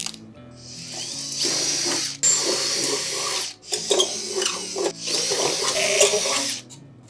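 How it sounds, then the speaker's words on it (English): A power drill whines in several bursts separated by short pauses, close and loud, with grinding as the bit cuts holes through a lid. "So what we're gonna do is drill these holes in."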